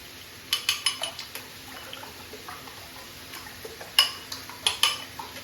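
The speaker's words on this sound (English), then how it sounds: "so mixing up my eggs" Eggs being whisked in a bowl for a chicken, smoked bacon, mushroom, tomato and basil omelette, a run of quick close clinks and taps against the bowl that fade out, then a second short burst of strokes.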